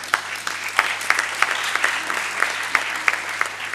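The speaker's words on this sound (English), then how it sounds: "that's his wife clapping her husband here" Audience clapping at a charity foundation conference, a steady patter of hands with a few sharper nearby claps standing out, no voices over it.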